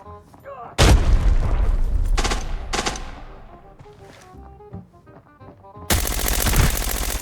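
Loud bursts of automatic gunfire from an enemy ambush at a lift exit in the shooter game Arena Breakout, several sharp volleys with quieter gaps, then a sustained heavy burst near the end.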